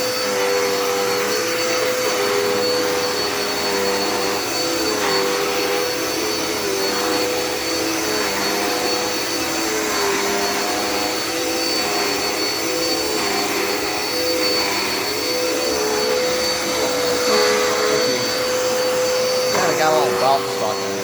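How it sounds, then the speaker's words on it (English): A Dirt Devil Endura Reach vacuum cleaner runs steadily across a floor, giving a loud, continuous close-up whine and roar that holds level throughout, with a faint rattle near the end. "we're gonna go ahead and vacuum up this floor real nice with it"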